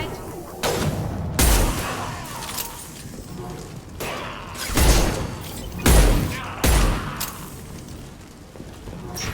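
Mass Effect 2 combat with several separate loud gunshot bursts and impacts spaced a second or two apart, sharp and booming, over a lower background of game ambience.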